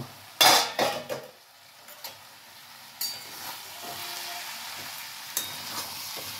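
The lid comes off a pan of Malabar spinach curry with a loud metallic clatter, followed by softer spoon scrapes and stirring over a quiet, low sizzle.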